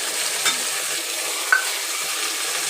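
Red chilli sauce, tomato ketchup and soy sauce go into a pan of sizzling chilli chicken, a steady close frying hiss with a couple of faint clinks and no talking.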